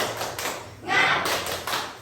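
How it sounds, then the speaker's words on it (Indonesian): In a primary school class, pupils do a 'tepuk semangat' spirit chant with a few sharp, fairly close claps under overlapping children's voices. "Kita tepuk semangat dulu ya."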